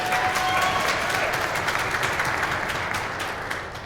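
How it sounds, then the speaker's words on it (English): An audience at a credit repair professionals' conference breaks into a full round of applause, dense steady clapping that slowly tapers toward the end. "give yourself a round of applause if you think that you can do better"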